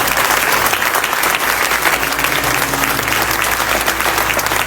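Loud, sustained applause from a congregation in church after prayer and fasting, a dense wash of clapping filling the whole moment with no break.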